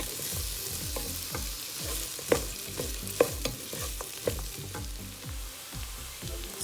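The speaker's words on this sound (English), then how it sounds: "And you saute the onion well." Two large diced onions sauté in a pan for Goan beef roast, sizzling continuously while a spoon stirs and scrapes the pan in a regular rhythm, with a few sharper clacks of utensil on metal.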